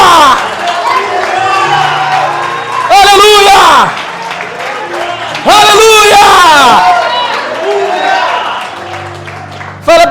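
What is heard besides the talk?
church congregation applauding and cheering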